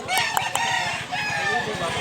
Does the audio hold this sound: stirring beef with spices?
no